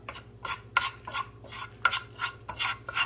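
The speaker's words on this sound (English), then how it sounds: "I'm stirring it around" Chana masala stirred in a cooking pot, with a spoon scraping in quick, rhythmic strokes, about three per second, close and moderately quiet, with no voices.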